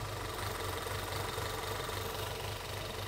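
A 2014 Audi A4 engine idling roughly with the oil cap removed and low oil pressure, a steady close mechanical drone with an uneven low throb, no speech.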